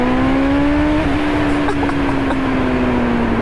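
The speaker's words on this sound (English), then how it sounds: "That's where VTEC opens up, and we get a super obvious increase in sound." A Honda CB400 Super Four four-cylinder carbureted motorcycle engine revs hard and climbs steadily, its tone lifting as the VTEC system opens, loud and close with a sustained rising howl.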